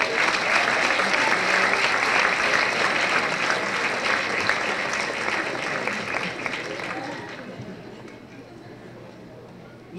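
Audience applause at a keynote conference, a dense sustained crowd clapping that stays strong before gradually thinning and fading out toward the end.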